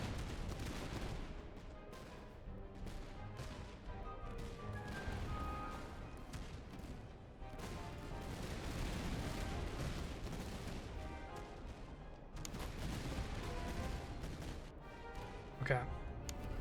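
Grenades and musket fire in the Napoleonic-era strategy game Master of Command, with repeated booms and crackling volleys rolling through dense battle noise under a running soundtrack.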